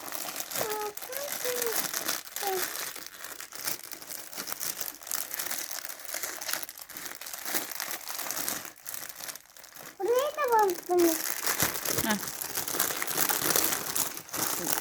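Gift wrapping paper crinkles and crumples for a long stretch as it is torn open at a child's birthday, with a voice and an adult talking over it.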